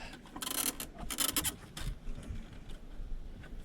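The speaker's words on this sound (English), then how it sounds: "Now I'm going to try to get this grill to lock in here at the top." Plastic scraping and rubbing as an aftermarket 941-042 front grille is pushed into place on a Mk3 Volkswagen, its edges trimmed with end nips; a series of close, rasping scrapes and clicks, denser in the first two seconds, with no talk.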